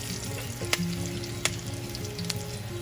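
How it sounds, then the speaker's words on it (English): Spices frying in hot oil for a spicy egg masala, a steady crackling sizzle throughout with three sharp clinks of a utensil against the pan spaced about a second apart, close and fairly quiet. "I'm just going to let this fry just for a few seconds till the aroma of all of these ingredients start to come out"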